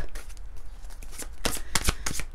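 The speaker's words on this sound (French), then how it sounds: "On va prendre une carte de l'oracle Lumière." A deck of oracle cards is shuffled up close, in quick papery riffles and slides that build to denser bursts, with no talking.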